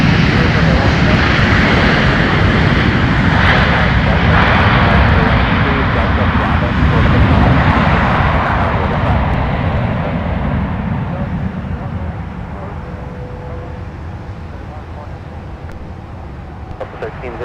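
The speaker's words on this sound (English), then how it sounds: "here's another look at our A320 that just arrived, next Northwest airframe, touching down for Delta" An Airbus A320 touches down at Minneapolis–St. Paul airport in a loud, sustained jet engine roar that slowly fades as the plane rolls out, with traffic noise in the background.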